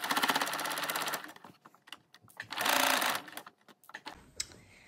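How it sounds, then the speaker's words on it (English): A sewing machine stitches an elastic waistband at a half-inch seam allowance in close, rapid mechanical bursts, with two main runs of stitching separated by brief pauses and small clicks. "now I'm just gonna sew using a 1/2 inch seam allowance"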